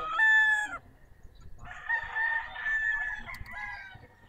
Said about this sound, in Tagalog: Ito yung mga personal broodcock.